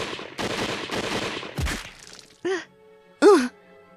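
Gunfire opens in a dense volley of rapid shots that breaks off and gives way to a couple of separate groaning cries, with a sharp echoing crack near the middle.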